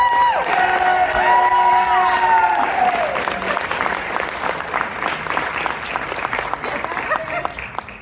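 Applause from an audience at a Stonewall Democrats caucus event at Purdue Fort Wayne, loud and sustained clapping from a crowd with a few cheers, while a voice briefly sounds at the start.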